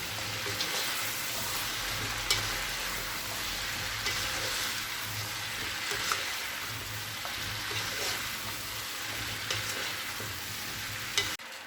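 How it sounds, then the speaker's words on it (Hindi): Cabbage and carrots stirred in a hot pan for vegetable pulao, with a steady sizzle of frying and the repeated scrape of stirring, close and continuous with no talking. "अब इसमें गोभी डाल देंगे, गाजर, इन्हें अच्छे से मिक्स कर लेंगे।"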